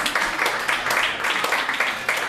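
An indoor audience at an award ceremony applauds with dense, rhythmic clapping from many hands, fairly close and loud throughout, with a voice speaking over it.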